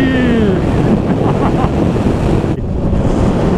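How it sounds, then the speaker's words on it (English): Strong wind buffeting the microphone while cycling on an open road, a steady, loud roaring rush throughout with a brief dip near the end. "It's very windy!"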